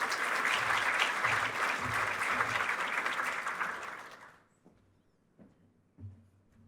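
An audience applauds to welcome a deputy chief executive to the stage at a merit awards presentation, a dense, steady clapping for about four seconds that stops abruptly, followed by faint footsteps and rustling.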